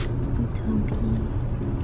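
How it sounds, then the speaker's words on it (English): A car drives along, heard from inside as a steady, loud low rumble of engine and road noise with no one talking. "We're driving out to go meet Sefie and Luke for dinner tonight"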